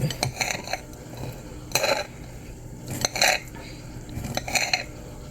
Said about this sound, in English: I'm just chopping these up.